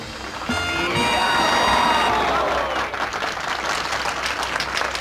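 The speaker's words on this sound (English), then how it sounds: "Everybody clapping." A crowd claps and cheers in a 1958 movie scene, with a dense, steady roar of applause sustained throughout under music tones at the start.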